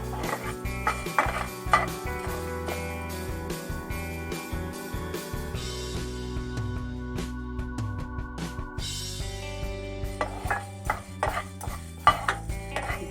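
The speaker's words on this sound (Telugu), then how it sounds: "ఇప్పుడు నెక్స్ట్ ధనియాలు యాడ్ చేద్దామండి. ఇప్పుడు వీటిని కూడా ఫ్రై చేద్దాం." Coriander seeds for sambar powder are dry-roasted in a pan, heard as close, irregular scraping and tapping of a spatula against metal with light rattling of seeds, and no speech.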